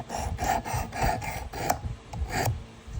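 A vintage USA Gerber Sportsman knife is drawn through a beginner sharpener in quick rasping strokes, about seven of them in a steady rhythm, close and fairly loud, with no talk.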